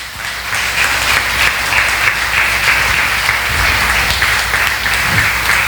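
A church congregation at an anniversary service breaks into loud, sustained applause, a dense wall of clapping with a low rumble beneath that rises quickly and holds strong.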